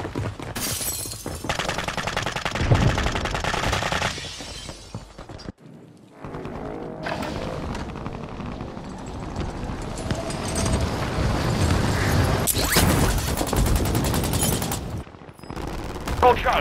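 Call of Duty gunfire in dense volleys, machine-gun bursts and shots piling up over a long stretch with a brief lull midway, loud and busy, with voices talking over the action.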